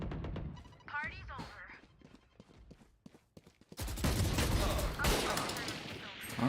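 Gunfire in the Valorant shooter game, with sharp shots scattered among voice chatter early on, then a dense burst of loud rapid firing and impacts in the second half, with a person talking.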